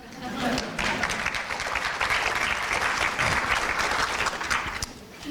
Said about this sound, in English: You guys should really clap to that.